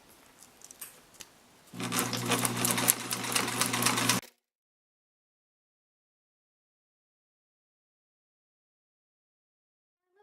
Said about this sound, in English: For my special edging, I'm just using a zigzag stitch, but if you have a machine that does special stitches, you could certainly use them down the side.